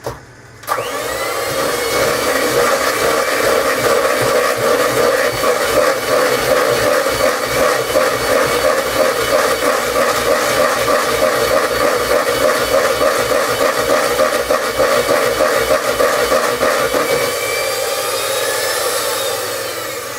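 Eggs being beaten in a bowl give a loud, steady whirring drone that runs almost unbroken for about seventeen seconds before easing slightly near the end, with no talk.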